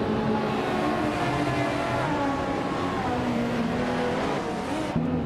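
A 1992 Seseta Mortar V16T vintage supercar races in a video game with a loud, droning high-revving engine note that holds steady and shifts slightly in pitch, with a brief thump near the end.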